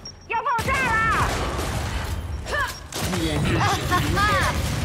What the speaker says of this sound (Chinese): 丢出破片手榴弹， 要爆炸了！